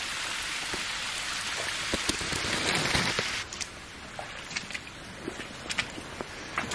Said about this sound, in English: it is raining now. A little bit, it's drizzling a bit.